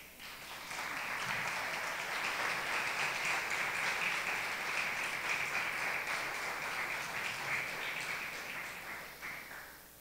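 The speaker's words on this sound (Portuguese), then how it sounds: "Aplaudam o Senhor." A church congregation applauds together in a sustained, even round of clapping that swells in, holds steady for several seconds and tapers off at the end.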